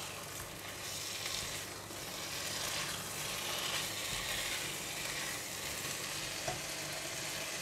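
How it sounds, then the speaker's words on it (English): Fried prawns sizzling and being tossed in hot kam heong sauce, a steady loud hiss with scraping and clattering of the wok as they are mixed, no talking. "When the gamhyang sauce is getting hot, I'm going to toss in the fried prawns and give it a mix."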